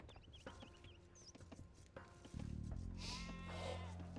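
Sheep bleat in Age of Empires II, several short game-style calls in quick succession over faint in-game clatter and a low rumble that swells partway through.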